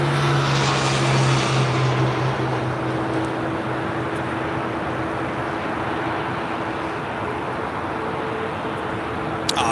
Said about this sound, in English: that Western Global Queen now starting takeoff roll